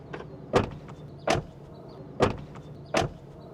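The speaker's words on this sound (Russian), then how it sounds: "закрытие дверей слышится разница" Doors of a 2025 Tesla Model Y shut four times in a steady rhythm, each a short, solid thump close by against a quiet background with no talk.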